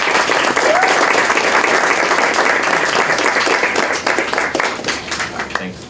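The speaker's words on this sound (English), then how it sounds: "please join me welcoming him with a big round of applause" Loud, sustained audience applause welcoming a speaker at an event, a dense wash of clapping that holds steady before slowly thinning, with some voices mixed in.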